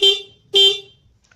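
Two short, loud motorcycle horn honks close by, triggered through a body bolt wired as a horn switch, separated by a brief pause, with quiet afterward.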